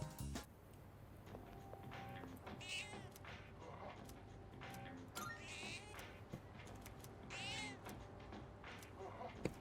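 A cat in Persona 3 Reload meows several times, short, fairly clear calls spread across a quiet ambient backdrop with faint ticks and soft steps.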